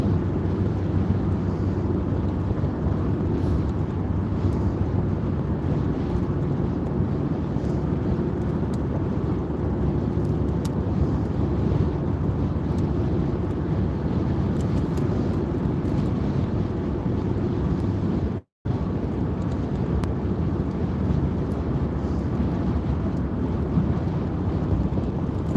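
Steady wind buffets the microphone outdoors, a continuous low roar and rumble that holds at an even level, broken only by one brief dropout.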